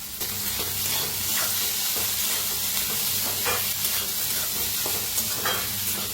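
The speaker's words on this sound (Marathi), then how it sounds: "असं हलवतच छान असं भाजायचं" Sabudana, rice and crushed peanuts roasting in a pan while being stirred, a steady soft sizzle and hiss with repeated scraping strokes of the spoon, close up, no voices.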